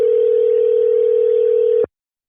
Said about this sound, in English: Let's give Daniel a call.